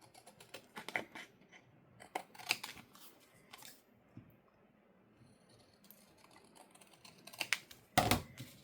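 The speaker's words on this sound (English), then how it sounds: "So I'm just going to use my scissors." Several quick, sharp snipping sounds scattered across the clip, scissors closing on paper in short bursts, close up and fairly quiet, with a louder snip near the end.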